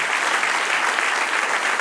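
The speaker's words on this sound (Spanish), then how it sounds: "Dele un aplauso al que vive." A church congregation bursts into dense, loud applause during a sermon, an even roar of many clapping hands that holds steady from start to finish with no individual claps standing out.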